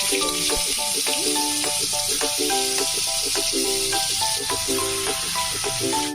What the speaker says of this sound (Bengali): দেখুন ম্যারিনেট করা চিকেনটা আমি এখন নিয়ে নিচ্ছি। তেলটা গরম হয়ে গেছে, এর মধ্যে এখন একটা একটা করে